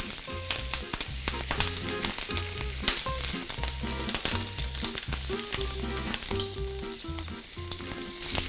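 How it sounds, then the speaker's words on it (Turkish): Meat frying in a pan for a breakfast egg dish, giving a steady, close sizzle with crackling pops throughout and no talking. "Etlerimi ilave ediyorum kızartmak için."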